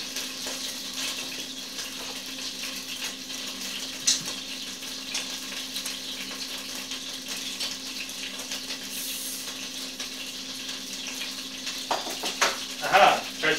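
Beer glugs from a bottle into a pot of stew with paprika, beef and broth, making a steady, soft pouring wash that runs throughout, with a few light clinks near the end.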